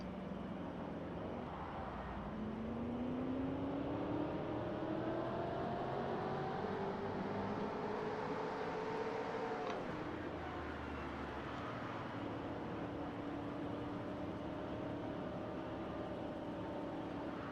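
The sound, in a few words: stock car engine sound in NASCAR video game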